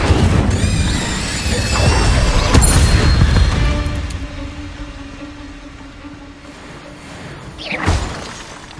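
An Incendio fire spell cast in Hogwarts Legacy erupts with a loud crackling burst and a shattering rush of flame, then fades into a low hum before a second sharp whoosh flares near the end.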